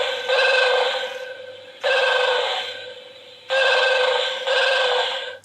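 A 2019 Star Trek Klingon Hallmark ornament gives off its electronic sound effect in three loud bursts, each lasting a second or two with a ringing, phone-like tone and brief gaps between.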